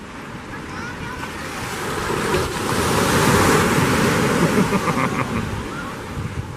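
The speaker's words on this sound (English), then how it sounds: "Just got to the beach right here, right now." Ocean surf rolls in at Laguna Beach, a steady broadband wash of breaking waves that swells louder midway, with wind buffeting the microphone throughout and no voices.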